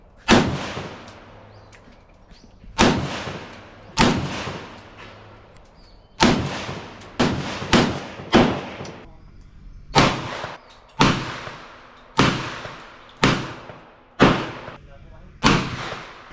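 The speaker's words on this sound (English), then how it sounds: "Shot an AK, bro. That AK was singing." AK rifle fired at a shooting range in Vietnam, about a dozen loud, sharp single shots in an uneven rhythm, each one cracking out close by and ringing off in a short echo, with no talking over them.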